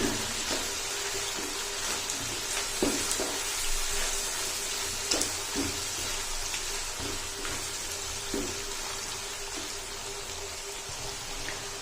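Garlic ginger paste frying in a pan while cooking chappan kaddu, a steady low sizzle with scattered soft crackles and pops, close and fairly quiet, no talking.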